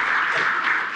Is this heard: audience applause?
yes